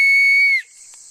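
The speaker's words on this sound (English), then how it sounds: "this whistle" Small survival-kit whistle blown once, a loud piercing steady tone held for about half a second before trailing off into faint breathy hiss.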